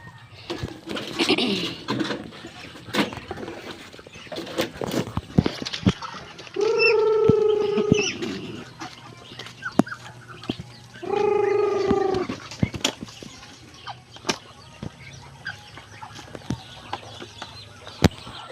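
Two loud, drawn-out quacking calls from hungry ducks nearby, separated by a few seconds, amid scattered clicks, pecking and light background chatter.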